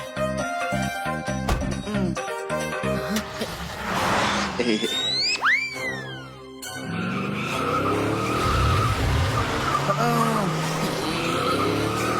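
Cartoon cars racing with sharp tire squeals and skids, rising engine whines and zooming passes over busy music, loud and continuous.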